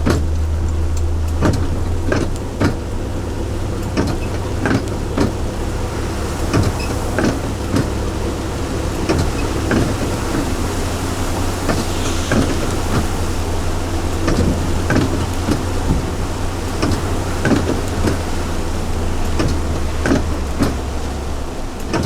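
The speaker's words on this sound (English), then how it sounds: "I can definitely feel this wind on the road" Hurricane-force wind roars along Highway 29 in Pensacola, Florida, a dense continuous rush with repeated gusty buffets and a low steady rumble underneath, loud and unbroken with no voices.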